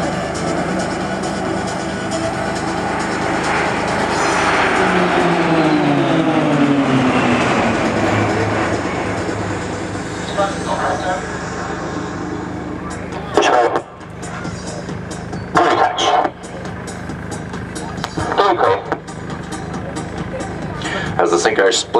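RAAF Roulettes training aircraft fitted with ejection seats roar overhead at an airshow in a six-pack to twin loop and split, a loud sustained engine drone rising and falling as the formation passes, with an announcer talking over it.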